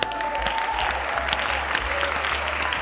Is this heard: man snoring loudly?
no